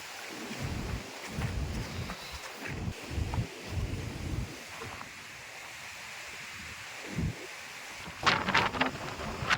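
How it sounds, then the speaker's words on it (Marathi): Strong monsoon wind on a forested hillside roars and buffets the microphone in heavy, gusty waves of low rumble, with a brighter rushing burst near the end. "वारा पण भरपूर आहे"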